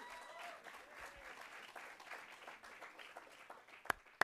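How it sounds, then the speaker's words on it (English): Applause from the audience at an advertising awards show, dense and steady with many hands clapping at middle distance, plus a couple of sharp louder claps near the end. "Big round of applause for everyone"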